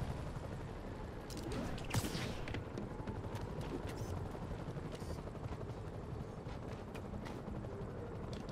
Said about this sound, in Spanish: Creo que voy a tener que usar el helicóptero